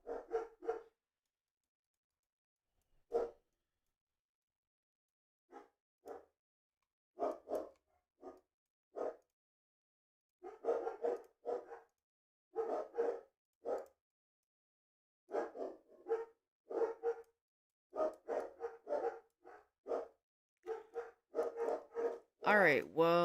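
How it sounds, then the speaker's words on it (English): Several dogs bark in short, irregular bursts that come and go across the stretch, with long gaps between them. The barking sounds clear but somewhat distant, with no talk over it. "Jeez, the dogs"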